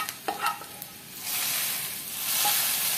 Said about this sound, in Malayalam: ഇത് ഇനി കറിയിലേക്ക് ഒഴിക്കാം.